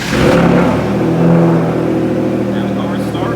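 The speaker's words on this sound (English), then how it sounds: "Now the car is started." A manual Hyundai Genesis Coupe fires up by remote start with a loud surge of revs, then settles into a steady, close idle hum.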